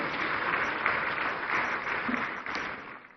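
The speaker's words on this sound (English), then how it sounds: "A round of applause, ladies and gentlemen." Audience applause at a national economic dialogue event, a steady, dense patter of many hands sustained at moderate level throughout, tapering slightly near the end.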